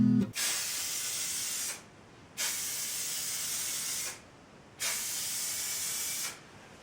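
Three long bursts of spray from an aerosol can as a final layer of clear coat lacquer goes onto a guitar body, each steady hiss lasting about one and a half seconds with short pauses between, close and fairly loud with no talk.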